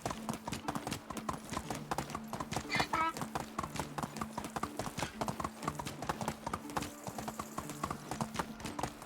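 Horse hooves trot steadily in the video game Medieval Dynasty, a close, rhythmic clip-clop with an occasional whinny, while someone talks over it and game music plays underneath.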